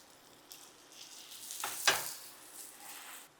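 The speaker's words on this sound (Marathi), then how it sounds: "आणि आता हे रोल छान खरपूस भाजून घेऊया." Corn paneer frankie rolls roast in butter on a hot tawa, giving a soft continuous sizzle with a brief sharper crackle midway, fairly quiet and without talk.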